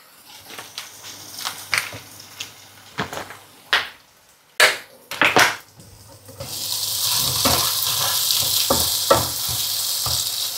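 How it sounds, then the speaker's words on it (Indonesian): Chicken pieces going into hot oil in a pan on a stove, starting with scattered clatter and splashes from handling, then a loud, steady sizzle and crackle settling in for the second half. "Saya mau goreng ayamnya dulu."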